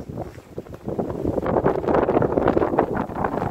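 Strong wind buffets the microphone at Errwood Hall in the Goyt Valley with a continuous rumbling roar that surges and gusts throughout.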